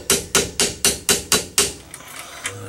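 Hammer tapping a U-joint retaining clip into place on a 1997 Dodge Ram 1500 front driveshaft: seven quick, evenly spaced metallic taps close by, then a quieter pause with faint handling noise.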